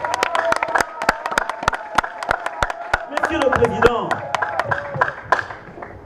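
An audience claps in rhythmic, evenly spaced hand claps at a hearing, honoring Maman Olive Lembe Kabila's initiative; someone speaks over the clapping midway while voices murmur around.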